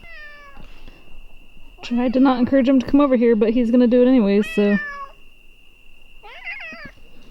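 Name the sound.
cat meowing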